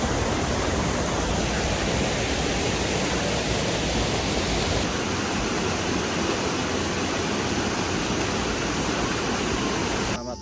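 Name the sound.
flowing river stream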